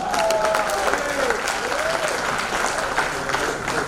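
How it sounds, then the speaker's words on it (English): Members at a club installation ceremony clapping, a sustained mid-level round of applause with faint voices and murmurs running underneath throughout. "You all can clap, don't worry about the partners."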